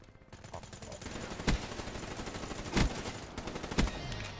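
Gunfire in the Black Ops 3 multiplayer game, a few separate sharp shots spaced over a few seconds against a busy, moderately loud game background.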